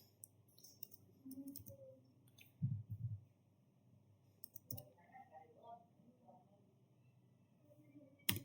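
Keys clicking on a computer keyboard during an operating systems lab exercise, sparse quiet taps in small bursts with pauses between, soft and close, alongside faint background rustle.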